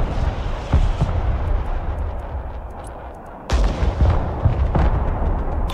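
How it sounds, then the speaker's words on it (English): Artillery fire in the video game Broken Arrow: several heavy booms land over continuous rumbling battle noise, with a brief lull before another loud salvo and further distant blasts. "I got two artillery firing."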